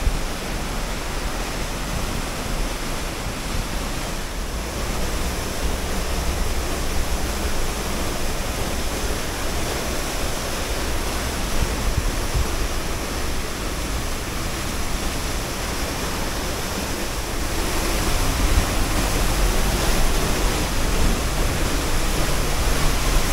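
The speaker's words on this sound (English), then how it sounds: "Oh, I see those people behind the falls there." Steady, broadband roar of a waterfall beside an uphill hiking trail in Oregon, constant and fairly loud throughout, swelling slightly louder near the end, with no voices.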